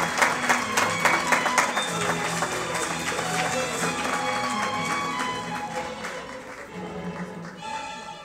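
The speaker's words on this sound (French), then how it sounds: "Une salle d'applaudissements, s'il vous plaît" Crowd at a graduation ceremony applauds as graduates enter, a full sustained round of clapping with music playing underneath, gradually fading toward the end.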